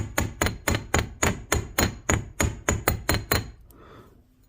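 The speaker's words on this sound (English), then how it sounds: "So I'm actually, dragging the hammer a little bit at the end." A hammer strikes wire on a handmade bead frame pendant, about a dozen sharp, evenly spaced metallic blows in a steady rhythm, close and loud, then stops.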